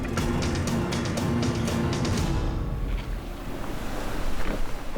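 Ocean waves off the beaches and islands of Bulalakaw, a loud broadband wash of surf and wind rushing continuously near the microphone, easing slightly midway then surging again.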